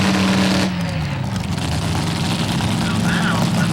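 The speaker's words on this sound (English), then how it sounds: "You heard Kondo start to get the RPMs up" An alcohol dragster engine at a Lucas Oil Racing Series drag race in Indianapolis, loud and steady with a brief high whine that drops away, then a rumbling, roaring drone that holds under crowd noise.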